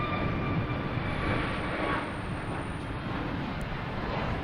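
Aer Lingus airliner at Boston Logan Airport, a fairly faint, steady jet rumble with a thin high whine drifting above it.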